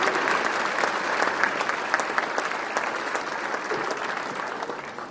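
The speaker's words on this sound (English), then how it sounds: "How about an applause for all of us?" A crowd applauds steadily, dense clapping from many hands that holds strong and then begins to taper off slightly near the end.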